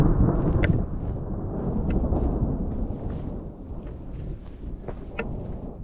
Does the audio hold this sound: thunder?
yes